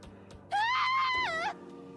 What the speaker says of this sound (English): Leapt to her feet with an ear-piercing scream?